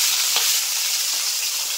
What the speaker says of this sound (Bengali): তো একইভাবে এই মাছগুলো আমি ভেজে নেবো।